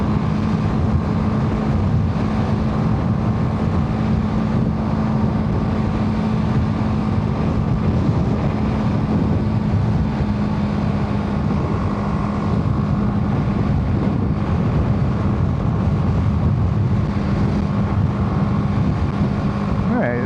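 Steady, heavy wind rumble buffets the microphone throughout, a dense low roar of air rushing past while riding a BMW G310 GS motorcycle at speed on a motorway.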